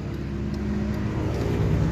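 A car engine idles steadily at close range, a low continuous hum with faint traffic noise, no voices.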